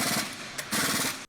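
Pneumatic impact wrench for removing car wheels, a loud rattling hammering burst, a brief pause, then a second rapid rattle that stops abruptly.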